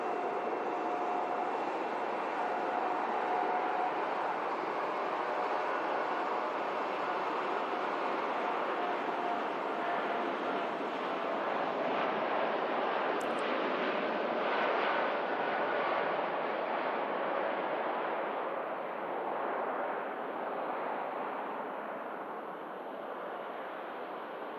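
Aircraft taking off at Manchester Airport, a loud sustained broadband jet roar that holds steady for the whole stretch and eases slightly toward the end as the plane climbs out.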